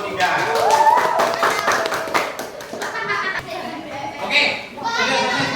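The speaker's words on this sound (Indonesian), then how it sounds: "beri tepuk tangan untuk kelompok 3" Children in a classroom clap for a group after a math activity on integer operations, brisk clapping mixed with lively kids' voices and chatter, fairly loud and close.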